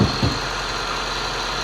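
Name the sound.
2013 Honda CR-V 2.4 liter engine running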